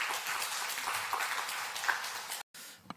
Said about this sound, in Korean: 우리 선교사님 등단하실 때 박수 한번 부탁하겠습니다.